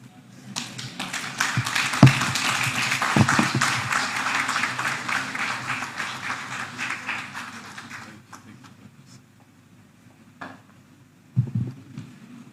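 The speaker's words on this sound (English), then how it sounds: "we can give a better clap" An audience at a church presbytery leaders' conference applauds with dense clapping that builds, holds for about eight seconds, then fades to a few scattered claps near the end.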